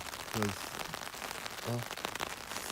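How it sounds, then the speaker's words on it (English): Rain falling on top of a camping hammock's cover, a dense patter of drops that stays steady and close throughout, with two short voiced sounds standing out briefly above it. "And the sound of the rain on the top, some people find it therapeutic because it has this peaceful feeling."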